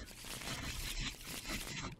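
Rapid papery scraping and riffling of digital playing cards being shuffled in Tabletop Simulator during a Pokemon card game, a dense continuous rustle lasting about two seconds, with faint voice in the background.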